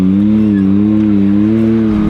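A vehicle climbing a steep, century-old mineshaft: a loud, steady engine drone held under strain, with a low wavering hum that rises and dips slightly throughout, heard close with no talk.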